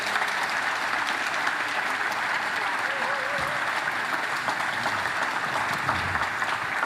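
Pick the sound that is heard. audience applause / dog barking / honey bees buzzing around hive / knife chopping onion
audience applause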